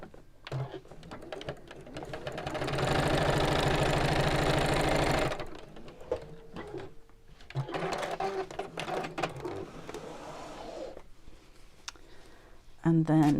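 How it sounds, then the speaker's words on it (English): A sewing machine closing the turning gap of a fabric pouch with a steady, buzzing run of rapid stitches lasting a couple of seconds, set among quieter handling noises, shorter stitching bursts and a little talk. "then we can just sew over the top"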